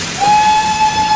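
A locomotive's loud whistle sounds near an industrial shed by coal pits, starting after a brief rumble and holding as one steady, sustained tone to the end.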